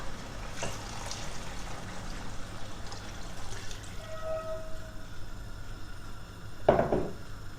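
Water poured into a pot of rice and mushrooms for a Bulgarian-style pilaf, a steady trickling pour with faint kitchen clatter and a sharp clink of cookware near the end, no voices.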